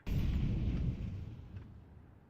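An incendiary grenade bursts in a video game, a single loud, low whooshing blast that fades into a roaring, crackling tail over a couple of seconds.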